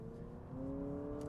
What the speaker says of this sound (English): you put it in sport mode immediately. The engine is louder.